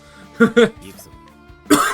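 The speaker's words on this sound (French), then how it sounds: "je tousse beaucoup, j'avale beaucoup de travers en ce moment" Two sharp coughs close together, then a short pause and another rough cough burst, loud and close with some throat noise between, from someone choking on swallowing.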